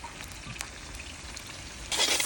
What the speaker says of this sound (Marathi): कांदा आपण व्यवस्थित परतून घेऊ हलका गोल्डन ब्राऊन होईपर्यंत बिहारी स्टाईलने